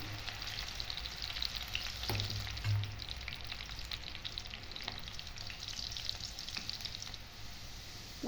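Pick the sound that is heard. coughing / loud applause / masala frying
masala frying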